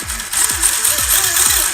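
A D1 brushless motor in a Yokomo YD-2 RC drift car revving on throttle, a loud whirring whine that rises and falls in repeated short sweeps, about four blips in quick succession.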